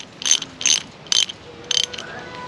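Ratcheting clamps being fitted and tightened on a backyard zipline steel cable, a few short bursts of quick metallic clicks spaced about half a second apart, close and fairly quiet against light outdoor background noise.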